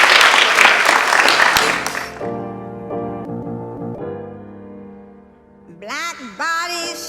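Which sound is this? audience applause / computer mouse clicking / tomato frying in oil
audience applause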